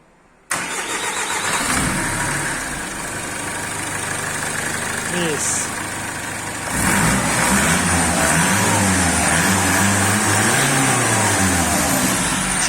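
A Mercedes 190 W201 fitted with an OM611 diesel engine cranks briefly and catches, then settles into a loud, steady diesel idle that grows a little rougher and louder toward the end.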